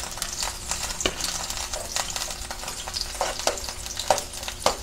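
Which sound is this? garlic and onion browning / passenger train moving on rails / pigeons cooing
garlic and onion browning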